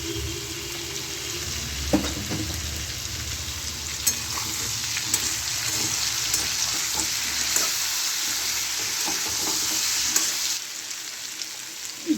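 Ground spice masala of turmeric, chilli, coriander and cumin powder sizzles steadily in a hot pan for a Bengali vegetable chokka, with occasional scrapes and taps of a stirring spoon.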